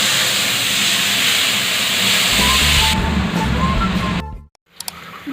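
Kewra water poured into hot fish curry masala sets off a loud, close, rushing sizzle and steamy hiss that eases after a few seconds and then cuts out abruptly.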